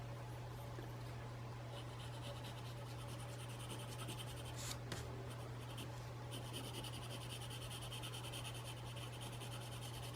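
A soft pencil scratches steadily across paper during a drawing session. The rubbing is faint and continuous over a constant low electrical hum, with no pauses and no talk.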